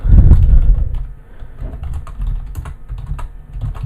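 Typing on a computer keyboard, a close, fast patter of light plastic key clicks with a heavier thump at the start, irregular bursts and short pauses, no talking over it.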